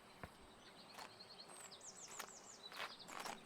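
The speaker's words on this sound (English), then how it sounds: "Just so peaceful hearing all the birds." Birdsong in the peaceful garden grounds of the video game Botany Manor, with light chirps and short tweeting phrases scattered across a soft ambient bed, plus a few brief clicks or footsteps.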